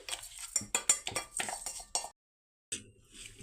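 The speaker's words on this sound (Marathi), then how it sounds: "हे छान असं आपल्याला याच्यामध्ये परतून घ्यायचं आहे" Ground moong dal with besan being stirred in ghee in a pot for moong dal halwa, a spoon clinking and scraping the pan in quick bursts, close and moderately loud, with a short silent gap before the scraping resumes.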